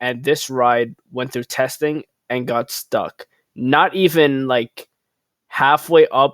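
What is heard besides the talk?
No everyday noises stand out.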